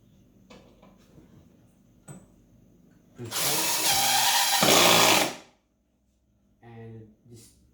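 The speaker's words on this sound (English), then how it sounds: "Use a impact drill" An impact drill whirs loudly for about two seconds driving a metal cavity anchor, preceded by faint handling clatter and followed by a brief shorter burst.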